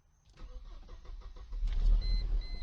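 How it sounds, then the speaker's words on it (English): A key-turned start of a Mercedes SLK: the starter whirs briefly, then the engine catches and settles into a low, steady running rumble. The sound is moderately close and without talk. "I turned the key, started right up"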